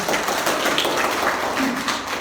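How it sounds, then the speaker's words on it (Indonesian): Crowd applause during a church worship service, a dense, steady patter of many hands clapping at once that holds at an even level for about two seconds. "Tepuk tangan buat Tuhan kita"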